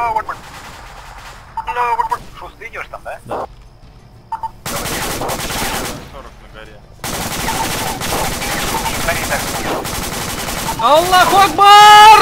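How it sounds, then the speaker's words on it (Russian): An American machine gun firing in the Arma military game, with long, loud, continuous automatic bursts that crackle densely. Quieter stretches and a few stray tonal sounds break up the firing. "Сейчас пулемет возьму, пиндосовский."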